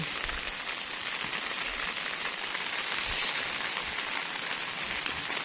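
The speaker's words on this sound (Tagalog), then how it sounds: "Umuulan ngayon, makulimlim." Steady rain pours down on a garden of lush croton plants under an overcast sky, a dense even hiss of drops striking leaves and surfaces without a break.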